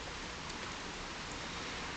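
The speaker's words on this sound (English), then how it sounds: "The rain is so cleansing, can you hear it?" Rain falls in a soft, steady, hissing wash with no distinct drops standing out, faint and continuous throughout, with no voices.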